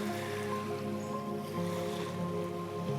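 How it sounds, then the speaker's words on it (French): Sea waves wash onto the shore at the water's edge, a steady, moderate surf hiss without distinct breaks, heard alone and fairly close. "pour juste te laisser voyager avec le bruit de ces vagues"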